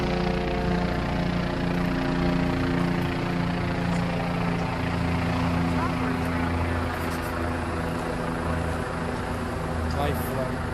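Life flight medical helicopter droning steadily overhead, a continuous engine and rotor hum that holds level for the whole stretch and fades slightly toward the end.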